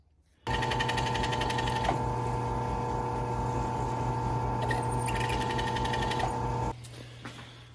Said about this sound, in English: I'm going to kind of countersink those holes